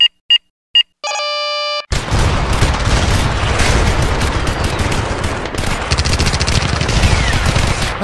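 A ship turret in a space game hangar opens with a few short electronic beeps and a sustained tone, then erupts into continuous rapid automatic fire that stays loud and dense to the end.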